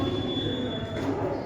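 A train on the Kalyan line at Diva station rumbles steadily and close by, with a continuous low roar of wheels on rails and a faint high squeal running throughout, no speech over it.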